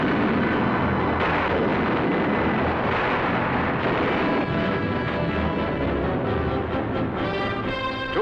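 Korean War artillery cannon fire rumbles in deep, booming bursts that roll into one another, heard from a distance through worn, noisy newsreel sound.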